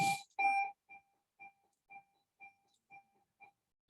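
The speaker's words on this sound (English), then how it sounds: "There's that bell again." A bell rings during a seminar: two louder strikes, then a steady run of evenly spaced, ringing tones about every half second, each one alone in an otherwise quiet room.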